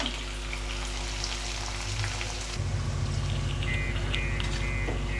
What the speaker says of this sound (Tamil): பூண்டு எல்லாமே நல்ல எண்ணெயில் வந்து பொரிஞ்சு